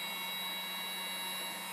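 A Dyson-style bladeless fan runs with a steady, even airy whoosh and a faint high whine, constant and close.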